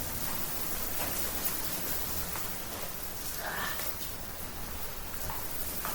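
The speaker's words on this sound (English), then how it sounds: "It's absolutely raining right now." Heavy monsoon rain falls in a dense, even hiss that fills the air continuously, with no voices over it.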